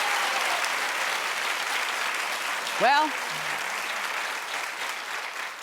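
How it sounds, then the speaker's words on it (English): A studio audience at a daytime talk show claps steadily throughout, while a voice briefly breaks through the applause partway along. "Clap if this is a show that you would watch."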